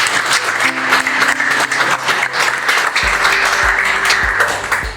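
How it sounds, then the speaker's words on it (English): Applause at a sporting legends honouring event in Kimberley, a steady round of clapping filling the room for several seconds, with low hum and some rumbling thumps underneath. "a round of applause"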